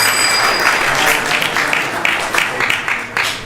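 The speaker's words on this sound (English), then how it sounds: "So please give them a big round of applause for that." Audience applause at a Sunday temple feast gathering, a thin, short burst of scattered hand claps that builds briefly and then trails off into fading individual claps.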